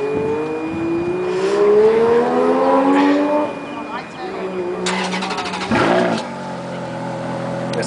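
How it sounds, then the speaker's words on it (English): A Ferrari F430 engine cranks and catches outdoors at a car meet, the starter whine rising before the engine fires into a loud revving burst and settles to a throbbing idle, with voices around it. "All right, John, start her up, man."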